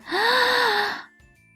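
A person's voice imitates a gasp, giving one long, loud, drawn-in breathy sound that trails off after about a second into near silence.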